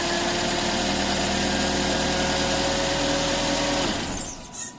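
A car engine with a leaking radiator and newly replaced water pump pipes, cranked over by the starter, runs as a steady, loud, close mechanical whir for about four seconds before winding down and stopping.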